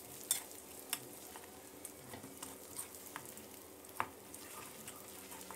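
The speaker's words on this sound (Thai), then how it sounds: "ให้เราผัดให้เข้ากันนะครับผัดให้น้ำตาลมะพร้าวของเราละลายเลยนะครับ" Coconut sugar is stir-fried in a pan until it melts, a faint sizzle under soft scraping and stirring with a few sharp clicks of utensil on pan, no talk.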